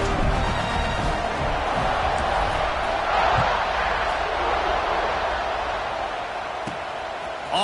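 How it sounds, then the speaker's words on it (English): A football stadium crowd buzzes after a score and an extra point, a dense, steady roar filling the whole stretch with no break, loud and continuous. "this crowd is buzzing after that last score"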